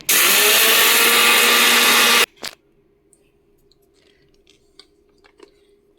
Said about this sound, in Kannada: ಒಂದು 3 ಸರಿಗೆ ಇದನ್ನು ನುಣ್ಣಗೆ ಮಾಡ್ಕೊತೀನಿ ಎಲ್ಲನ ಮಿಕ್ಸಿ ಜಾರೊಳಗೆ